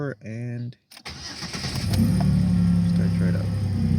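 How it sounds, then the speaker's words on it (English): A Chevrolet Impala that sat overnight on a weak battery cranks briefly and fires, settling into a steady, loud, close engine idle. A voice speaks just before it starts. "Let's go ahead and see if it'll crank over."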